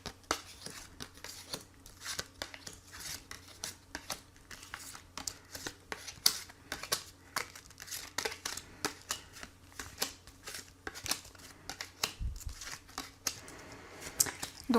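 Tarot cards are shuffled and dealt out for a reading: a long run of crisp, rapid riffling and slapping card sounds, close and fairly quiet, with sharp flicks as cards are set down. No one speaks.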